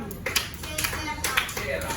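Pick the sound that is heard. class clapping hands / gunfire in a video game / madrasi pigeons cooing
class clapping hands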